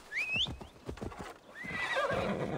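A horse in Assassin's Creed Valhalla lets out a loud, high whinny over clip-clopping hooves, followed by a second rising neigh as the steps continue.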